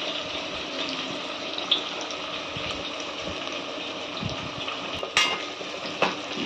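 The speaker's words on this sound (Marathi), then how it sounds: "चला कांद्याला मस्त फ्राय करून घ्यायचा लाल होईपर्यंत।" Sliced onions frying in a pan with cumin seeds for chicken khichdi, a steady hiss and crackle throughout with occasional sharper pops and clinks near the end.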